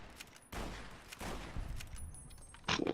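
Sniper rifle fire in Fallout: New Vegas Lonesome Road, several separate sharp reports spaced about half a second apart, fairly quiet, ending in a brighter, crisper crack.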